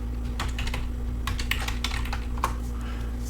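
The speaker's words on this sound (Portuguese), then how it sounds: "Basta digitar dir e o nome" Close, quick clicking of typing on a computer keyboard in short irregular bursts over a steady low electrical hum, with no talking.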